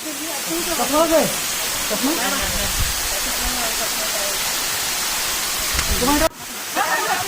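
Continuous broadband roar of a waterfall at Sitakunda, loud and close, with voices talking over the rushing water.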